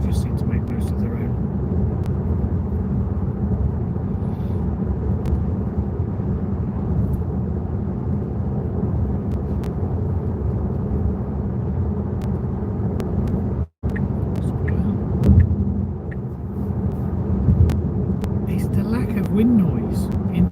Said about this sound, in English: Wind noise in this car at 73 miles an hour is quite remarkable